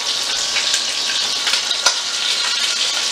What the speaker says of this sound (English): It smells good just browning the meat there.